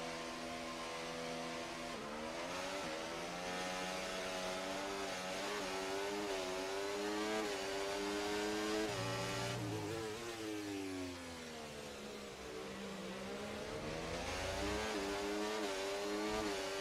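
Race cars in a racing video game launch off the grid at COTA, engines revving hard and climbing through gear changes in a continuous loud roar that rises and falls over several seconds.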